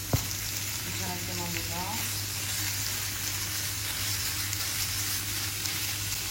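Onions and butter frying in oil in a pan, a steady broadband sizzle running throughout at moderate level, with a brief sharp knock near the start and a short murmur of speech over it.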